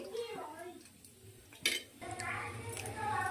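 A metal kadai is set down on a stove with one sharp clank partway through, amid light kitchen rustling and someone speaking over it.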